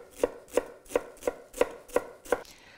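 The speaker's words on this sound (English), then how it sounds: "I've got a nice big bunch here, which I'm going to finely chop up." A big bunch of fresh cilantro being finely chopped with a knife on a cutting board, seven crisp, evenly spaced chops ringing out close and clear with no talking.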